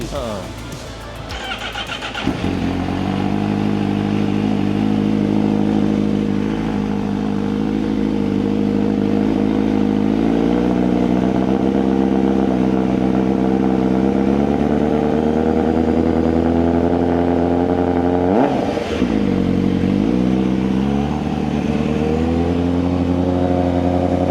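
A Honda CBR1000RR-R SP motorcycle engine starts with a burst and settles into a steady loud idle through its exhaust, then blips the throttle briefly before idling again.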